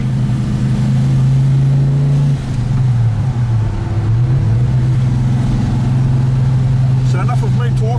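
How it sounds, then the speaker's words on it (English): Loud, close exhaust note of a Ford GTHO Phase 3 tribute, a lumpy rumbling idle broken by a couple of short throttle stabs that dip and lift the pitch before settling back into a steady burble. "listen to the music of this exhaust"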